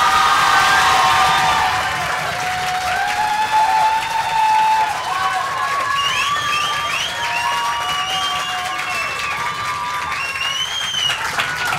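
Studio audience applauding and cheering from both sides at a French comedy show, a loud sustained wash of clapping with shouts and whistles rising over it throughout.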